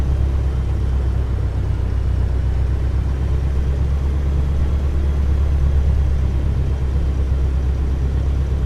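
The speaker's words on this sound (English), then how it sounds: "And we'll go ahead and get that RPMs up." A Cessna 152 piston engine with propeller runs steadily as the throttle opens, a loud, dense low rumble holding strong and even throughout, close and alone with no talk.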